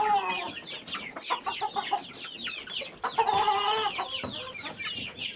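Young roosters clucking and squawking indoors, several birds calling in quick, overlapping bursts with one louder stretch of calls near the middle, fairly close.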